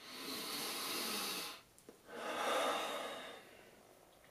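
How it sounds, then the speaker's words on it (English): A person breathes deeply and slowly near the microphone: a long airy inhale, a brief pause, then a full hissing exhale that fades out. "just deep breathing, just."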